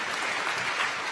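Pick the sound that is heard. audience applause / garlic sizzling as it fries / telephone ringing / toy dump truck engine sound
audience applause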